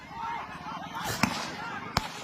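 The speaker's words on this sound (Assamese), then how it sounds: "ফাঁকা গুলি মাৰি আছে" Blank gunshots fired by police during a violent clash with evicted residents in a forest area, two sharp loud cracks about a second apart over crowd noise and shouting voices.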